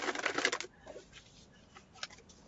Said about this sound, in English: let me get one more shuffle.